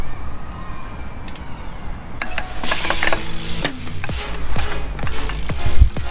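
A BMX wheel built with straight-laced spokes ticks and clicks as it flexes under weight, a quiet mechanical rattle growing into dense, repeated ratcheting clicks up close.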